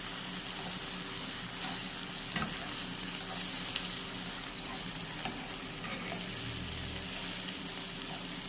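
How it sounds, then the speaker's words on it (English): Food frying in a pan before sardine goes in for sardine fried eggs, a continuous moderate sizzle with occasional light stirring clicks and a faint watery hiss beneath, no talking. "I will also stir this for about 2 minutes before going in with the sardine."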